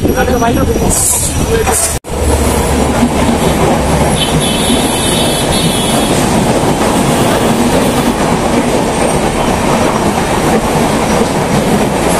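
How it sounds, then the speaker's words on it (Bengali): A train passes close by with a loud, continuous rumble and rhythmic wheel clatter, voices faintly audible beneath it. "ট্রেন দেখাইবে এদিকে।"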